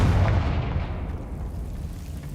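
A Confringo fire spell bursts in Hogwarts Legacy, a single loud, booming explosion with heavy low rumble that fades out over a couple of seconds, heard alone without talk.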